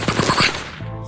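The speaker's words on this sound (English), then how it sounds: "gunshots rang out" A rapid burst of several sharp gunshots cracks out loudly in quick succession, then cuts off into a brief ringing tail, with no voices.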